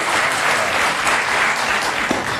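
A studio audience on a German cooking show claps in loud, even, continuous applause for a cook's potato peeling, with no voices over it.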